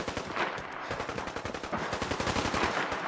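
Rapid bursts of automatic turret gunfire in the game Fallout 4 rattle continuously, dense and loud, in sustained volleys without pause.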